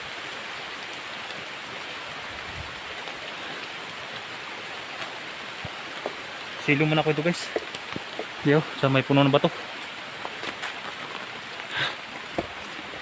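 Heavy rain pours in a steady, dense hiss under a tree by some rocks, with someone speaking briefly over it.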